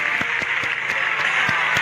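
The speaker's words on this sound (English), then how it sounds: "Give her the applause, everybody!" Steady applause after a magic show in the video game Genshin Impact fills the whole moment, a dense wash of clapping with faint regular ticks running through it.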